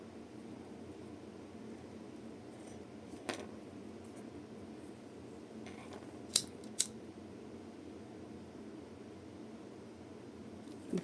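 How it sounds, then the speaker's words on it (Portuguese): Scissors snip excess crochet yarn from a bag with two sharp, close cuts in quick succession, plus a fainter click earlier, over a quiet steady room hiss. "Eu vou cortar o excesso."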